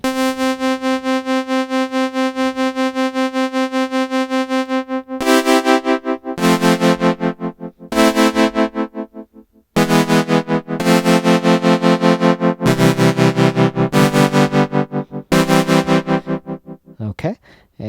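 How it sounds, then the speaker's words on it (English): A Sequential Circuits OB-6 synthesizer with its LFO set to tremolo, holding sustained notes whose loudness pulses rapidly and evenly, then a run of chords and changing notes, each throbbing in the same fast rhythm. "Alright, so this is your tremolo."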